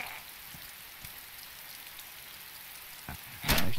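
Rain falling in the video game DayZ, a soft continuous hiss of drops on surfaces, fairly faint, with a few sharper ticks and a brief louder rustle near the end.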